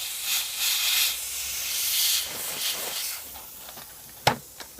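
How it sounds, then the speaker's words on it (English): Airbrush spraying a light coat of paint around a scale model, a steady airy hiss in bursts that fades over the first three seconds, followed by two sharp clicks near the end. "Give them a light airbrush all the way around."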